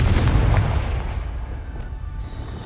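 A Confringo fire spell blasts in Hogwarts Legacy, one loud booming explosion that rumbles and slowly fades, heard alone.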